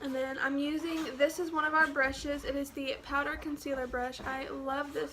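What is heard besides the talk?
None of the usual background noises is heard.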